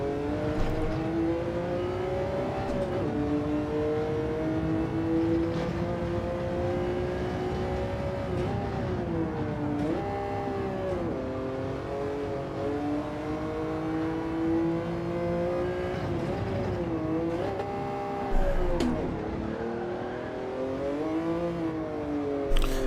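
Race car engine in Gran Turismo 7 during a time trial, droning steadily throughout with pitch rising and falling as it revs through corners and gear changes, loud and continuous with no talk over it.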